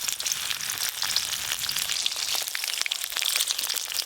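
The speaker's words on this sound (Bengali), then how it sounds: "এই যে অনেকগুলো সিমের মধ্যে পুর ভরা হয়ে গেছে, এবার ভাজা শুরু করে দেব।" Stuffed flat beans frying in hot oil give a dense, even sizzle with fine crackling throughout, close and steady with no talk.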